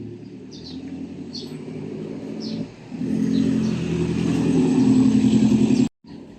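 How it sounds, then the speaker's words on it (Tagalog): NK400 motorcycle engine running with its exhaust pipe note, a loud steady idle that swells as the revs rise, faint birds chirping in the background, cutting off abruptly near the end. "May start natin para at least makita nyo yung or marinig nyo yung yung tunog ng pipe."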